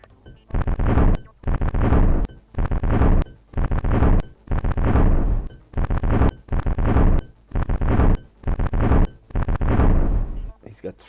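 Depleted uranium cannons firing in Space Empires 4 combat, loud booming blasts repeated about ten times in a steady rhythm, each a heavy thud with a short rumbling tail.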